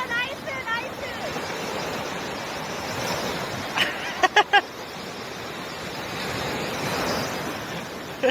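Ocean waves breaking at a seaside, a steady broad wash of surf rising and falling, with a few brief sharp knocks and bird-like chirps partway through.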